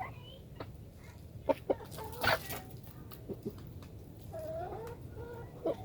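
Backyard chickens being fed deformed mealworm beetles give soft, scattered clucks, a few sharper calls breaking through a low, steady background hum.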